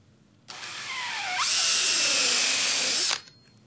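A drill spins up and bores through foam with a DoubleRock button tufting foam cutter, cutting a button hole; a loud, steady whine lasting about two and a half seconds, rising in pitch partway, then cutting off.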